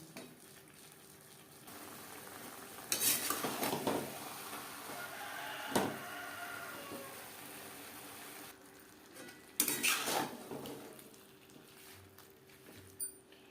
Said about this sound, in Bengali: বাঁধাকপি ও শিমের সাথে আলু বেশ ভালো করে মিক্সড করে দেব